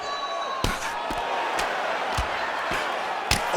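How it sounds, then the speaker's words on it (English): Arena crowd in the EA UFC 5 fighting game, a sustained roar of cheering with several sharp thuds and slaps cutting through it. "the crowd pops in appreciation as the fighters work their way back"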